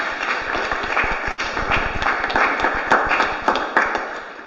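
Audience members at a Toastmasters club meeting in Dallas clap together in dense, sustained applause, with scattered sharper claps standing out near the end.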